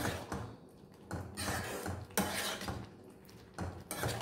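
A lid goes onto a cooking pan of rava upama with several clanking metal knocks and scrapes, close and fairly quiet, with irregular bursts of clatter.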